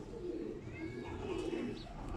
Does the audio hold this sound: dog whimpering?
no